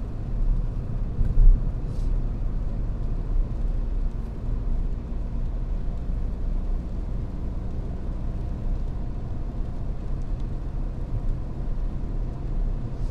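A car in third gear during a standard driving test, heard from inside as a steady, low engine and road rumble with no clear changes and no one talking.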